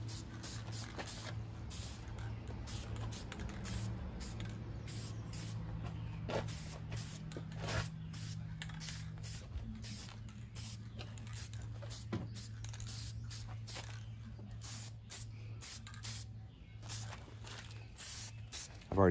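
Paint is sprayed in a light coat onto Honda Z50R engine parts as short, faint hissing bursts repeat over a low steady hum, quiet and close.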